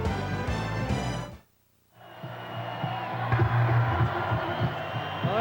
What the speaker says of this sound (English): that's a long walk for Ed Hervey on Labor Day with a capacity crowd cheering him as he's being escorted off